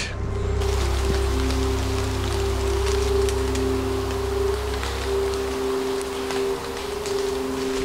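Steady rain falls through the Vercors forest, a dense patter of drops on leaves and ground. A low hum runs beneath it and fades partway through.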